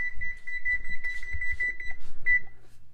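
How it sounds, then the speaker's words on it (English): A kitchen oven timer beeps to signal buttermilk biscuits are done, a rapid run of loud, even electronic beeps followed by a brief pause and one more short beep, with soft clatter underneath. "Our oven is going off, indicating that our biscuit should be done and perfectly golden brown."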